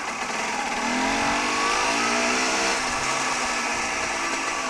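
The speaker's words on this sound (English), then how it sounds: "the bike I'm riding is a Kachiva Mito. Standard 2000 125" Standard 2000 Cagiva Mito 125 two-stroke motorcycle with an Arrow exhaust can, ridden on the road, its engine a loud, continuous buzzing drone that rises and falls slightly in pitch with wind noise.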